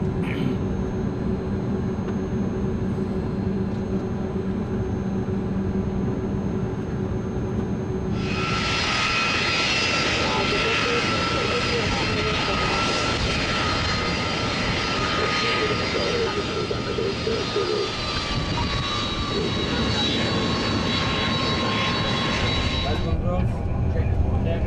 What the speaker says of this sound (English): Starting engine number 1 and 2.